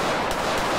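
Gunfire in GTA IV with the LCPDFR police mod during a multiplayer London Met Police armed-response patrol. Two quick, loud shots crack close together over a dense, noisy background.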